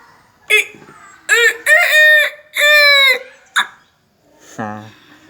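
A voice mimics a rooster's cock-a-doodle-doo up close, with a short call, a long wavering crow, a clipped note and then a lower gargled tail, each loud and separated by pauses.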